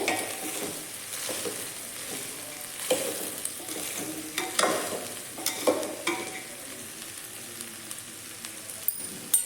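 Horse gram palya fries in a pan with a soft, constant sizzle, broken by repeated scraping and knocking of a spatula stirring the mixture, some strokes louder than others.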